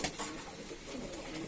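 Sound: tumbler pigeons cooing

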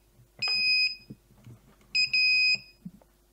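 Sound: iGET M2B GSM alarm system siren

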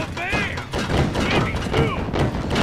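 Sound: cannons firing in Sly Cooper Thieves in Time video game

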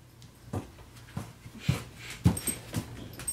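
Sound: dog grumbling and whimpering

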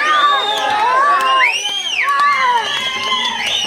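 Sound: audience clapping, cheering and whistling

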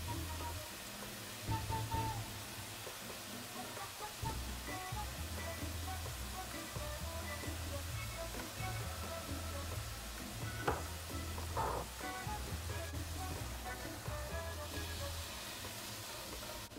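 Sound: ground beef browning in a pan

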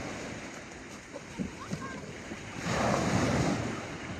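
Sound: sea waves at Pantai Puteri beach, Melaka

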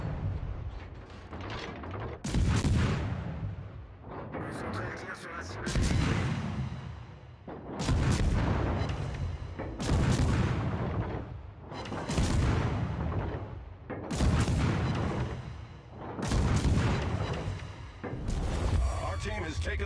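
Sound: naval gunfire and shell explosions in a video game

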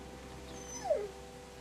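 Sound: dog whimpering, from The Walking Dead Telltale video game

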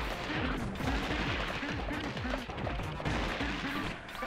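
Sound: shooting a bomb in the video game Gato Roboto

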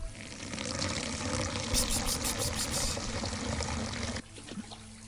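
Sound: water running from a tap in a video game

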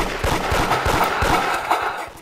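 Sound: gunfire from a player shooting in the Roblox game Da Hood

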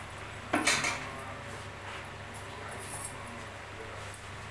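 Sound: stirring masala into mutton in a pot

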